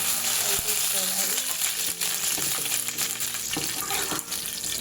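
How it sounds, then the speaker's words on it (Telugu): Peas frying in oil in a pan, a constant bubbling sizzle close by with occasional stirring clicks, steady in loudness throughout. "నూనె మొత్తం తీసేసిన తర్వాత కొద్దిగా ఫ్రై చేసుకోవాలి."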